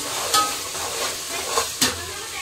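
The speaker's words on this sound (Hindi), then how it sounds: "टमाटर ऐड कर रही हूँ मैं, इसमें टमाटर डालूंगी, टमाटर डाल के इसको अच्छा भूनूंगी" Ginger-garlic masala frying in oil sizzles steadily close by, with two sharp stirring scrapes against the pan.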